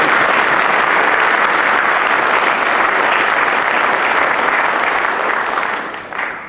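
Audience at the UKIP 2007 annual conference breaks into loud, sustained cheering and applause, dense clapping that holds steady and then fades toward the end.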